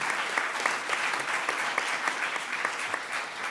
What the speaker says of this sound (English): please, let's give a round of applause again to our speakers.